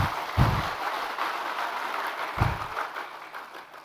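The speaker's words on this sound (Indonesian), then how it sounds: "Ini PKS banyak juga tepuk tangannya ini" Audience applauding at a PKS party political speech, a steady wash of many hands clapping from a sizeable hall crowd, fairly distant and even, with a couple of brief louder thumps near the start and middle.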